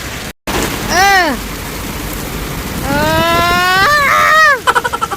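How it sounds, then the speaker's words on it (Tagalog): Heavy rain with strong wind pours in a steady loud hiss while a voice exclaims over it, followed by a few dripping taps at the end. "ang lakas ng ulan"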